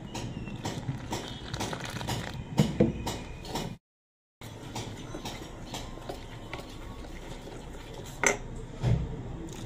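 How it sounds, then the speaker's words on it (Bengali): Chop batter, made with a pinch of baking soda and water, being beaten by hand in a bowl, with repeated clattering and scraping strokes that stay close and steady, broken by one short silent gap. "ভালো করে এবার ব্যাটারটা ফেটিয়ে নেব।"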